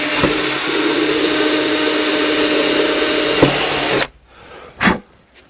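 A power drill whines steadily and loudly while boring a hole in a model airplane wing, then stops abruptly, followed by a brief handling knock.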